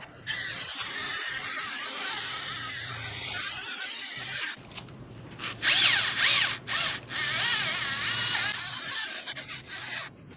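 A power sander works on a faded, yellowed BMW headlight lens, its buzzing drone rising and falling in bursts with scratchy friction against the plastic, close and steady with brief pauses.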